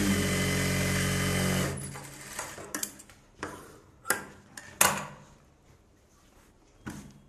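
A sewing machine hums steadily for under two seconds while stitching a sleeve of a Bharatanatyam dance costume, then stops, leaving scattered clicks and knocks of handling.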